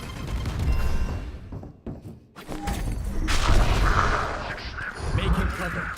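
Grenade explosion in the Valorant video game, a booming blast among game effects and gunfire, with players talking over the action.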